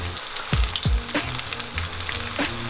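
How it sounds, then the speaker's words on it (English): Vegan pakora batter frying in hot oil, with a steady close sizzle and a few louder pops and bubbles as pieces go in. "mix going into the hot oil"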